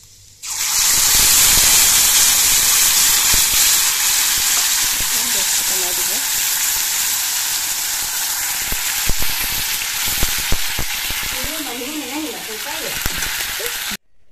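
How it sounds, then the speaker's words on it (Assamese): Panch phoron spices dropped into hot oil, a loud steady sizzle and hiss that starts abruptly and slowly fades, with brief stirring scrapes and faint voices in the background. "তেলখিনি গৰম হৈছে ইয়াতে মই কেইটামান পাঁচফোৰণ দিম"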